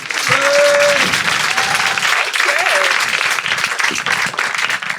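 A live podcast audience at a French comedy show breaks into loud, sustained applause, with scattered shouts and voices rising above the clapping.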